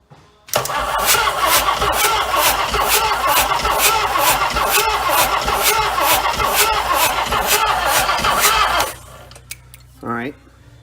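Chrysler Marine 360 V8 cranking over on the starter with a compression gauge fitted, a loud close rhythmic chugging of even beats for about eight seconds before stopping, followed by a brief low sound.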